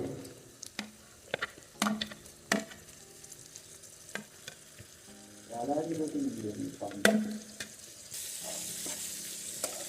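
Tomato cooking in a pan with green chillies and ginger for a Telugu-style chicken fry: a steady low sizzle broken by sharp clinks and scrapes of a spoon, with a louder stirred hiss midway and a brighter sizzle near the end.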